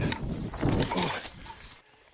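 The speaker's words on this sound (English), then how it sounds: "he's barking" Hunting dog barking during a feral pig hunt, a few sharp close barks mixed with rustling and animal noise over about two seconds before things go quiet.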